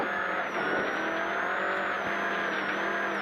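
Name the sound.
Skoda rally car driving a stage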